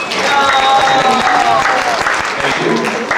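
Audience applause fills a church stake roadshow hall, loud steady clapping from a crowd, with voices mixed in.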